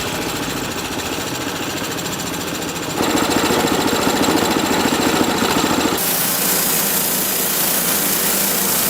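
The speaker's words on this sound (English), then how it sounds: "The sanding machines whine as layers of wood fiber are polished away" Wood sanding machines in a large wood processing factory give a loud, steady whining drone that shifts in pitch and intensity twice, running continuously with no talking.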